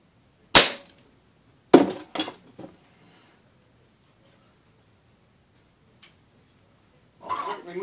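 A Benjamin Trail air rifle fired at a can, one sharp loud crack followed by metallic clanks and rattles of the struck can, then near silence and a faint tick before some rustling.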